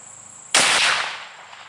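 A Remington muzzleloader rifle fires a single loud shot outdoors during sighting in, a sharp blast followed by a long decaying rumble and echo, with faint insect chirping in the background.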